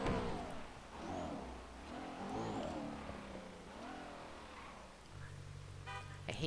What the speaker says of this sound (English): hate that my engine sounds like that